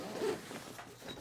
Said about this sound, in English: work this zipper around